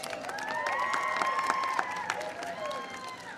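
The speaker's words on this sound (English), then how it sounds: "Give them a round of applause." Audience applause at a student stargazing event with President Obama, a steady wash of clapping with some cheering, held at moderate loudness across the whole stretch alongside a murmur of voices.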